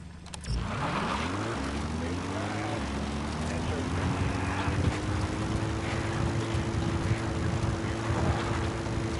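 In the Metal Gear Solid V video game, the Pequod support helicopter arrives with a loud, continuous engine and rotor drone that rises in pitch and then holds steady for several seconds.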